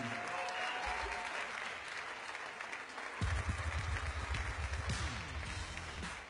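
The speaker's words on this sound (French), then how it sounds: "On applaudit bien fort Gad Elmaleh" Audience applause at a large event, a steady crowd roar of clapping at moderate distance that swells louder about halfway through and keeps going.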